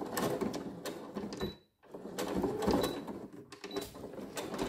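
A sewing machine runs in quick rhythmic bursts, stitching a seam on a fabric coin purse close up, with one short pause between runs.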